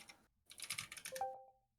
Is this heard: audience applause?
no